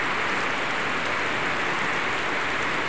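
Heavy rain pours steadily during a typhoon, a dense, even hiss with no letup and no voices.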